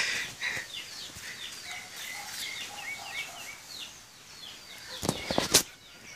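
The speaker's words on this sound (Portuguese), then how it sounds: "Olha a galinha preta." Scattered bird chirps and soft clucking in an outdoor yard, with a few louder sharp squawks near the end.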